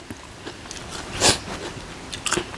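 Someone bites into and chews a crunchy, spicy Thai salad of fried chicken feet with lead tree seeds, a few close, crisp crunches standing out briefly and no talk.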